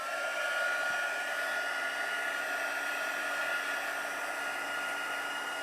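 A hair dryer blows steadily on an art journal page to dry wet glue, a constant close whooshing whine that holds the same level throughout with no pauses.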